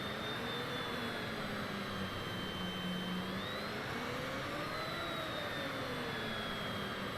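A Citation private jet taxis in Microsoft Flight Simulator 2020, its engines giving a steady, loud whine and rumble that hold for the whole stretch, with slowly drifting tones and no voices.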